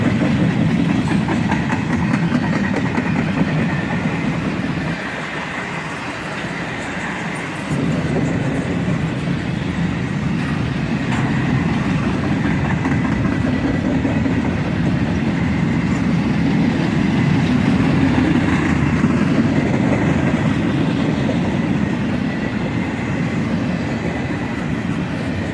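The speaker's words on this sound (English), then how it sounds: "And even more empties." A freight train hauling empty railcars rolls past close by with a loud, continuous rumble and steady clatter of wheels on rails throughout.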